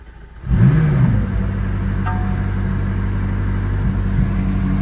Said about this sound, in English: Let's start it up. So foot on the brake pedal, hold down the start button, here we go.